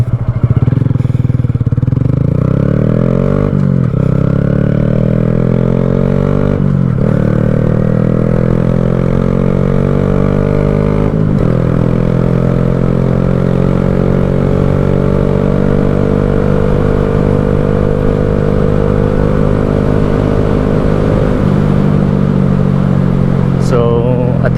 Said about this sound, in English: I'm still trying to practice engine braking and blipping the throttle